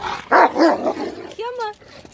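A dog barks twice, loud and close, then gives a rising whimpering yelp, with a person's voice nearby.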